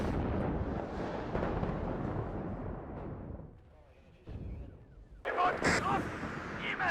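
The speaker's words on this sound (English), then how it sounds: "A lot of artillery now." Artillery fire rumbles through a WARNO battlefield as a sustained, heavy barrage of overlapping booms that fades into a lull, followed by fresh sharp blasts, with radio voices and talk over the top.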